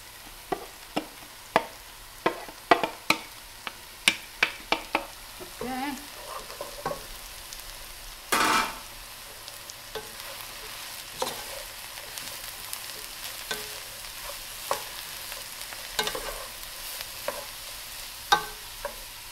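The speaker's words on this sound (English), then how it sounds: "You gotta fry. Fry a little bit." Eggplant stuffing frying in a pan in a home Italian kitchen: a steady sizzle runs throughout, broken by frequent sharp clinks and scrapes of stirring, with one louder burst of hissing partway through.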